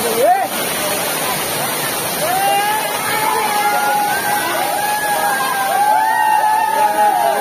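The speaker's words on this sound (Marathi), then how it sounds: "जबरदस्त हा धबधबा आहे" A Konkan waterfall roars in a steady broadband wash, with people's voices and excited calls rising over the rushing water throughout.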